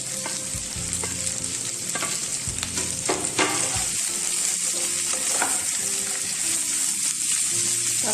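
Tomato frying in a pan for baked mala while being stirred, a continuous loud sizzle with scraping strokes of a spoon throughout, close up and without talk.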